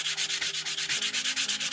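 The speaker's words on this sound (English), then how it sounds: "give it a light sanding with 220 grit sandpaper" Light sanding with 220-grit sandpaper on a painted surface: quick, even back-and-forth scratchy rubbing strokes in a steady rhythm, close and alone.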